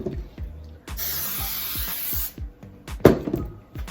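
A long, loud aerosol hiss of hairspray lasting over a second, close by, surrounded by light tapping and handling noises.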